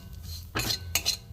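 A metal spoon scrapes and clinks against a pan while semolina is stirred in ghee, two quick close scraping strokes over a faint background.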